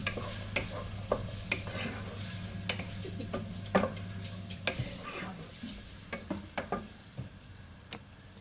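Vegetables hit a hot pan and sizzle steadily, and sharp utensil clicks and scrapes against the pan come through the frying hiss near the mic.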